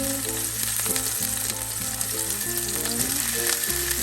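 Tomato and chili sizzle and fry steadily in a hot pan while being stirred, with scraping and stirring clatter over a continuous loud crackle for Baguio beans with kikiam and oyster sauce.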